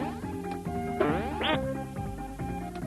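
Electronic ducks quack amid chiptune music from the Addams Family 2 video game, a few short synthetic quacks riding over the looping melody.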